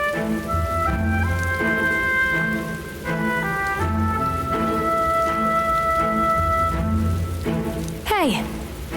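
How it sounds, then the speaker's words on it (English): Rain falling in the video game Metaphor: ReFantazio, a steady soft patter of drops under a prominent musical score with sustained tones and a swooping sound effect near the end. "Still raining."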